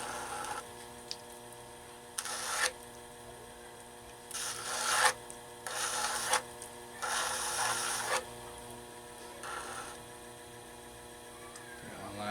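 Scraping and trimming the foot of a clay piece, several separate rasping strokes of a second or so each, moderately close, over a faint steady background hum.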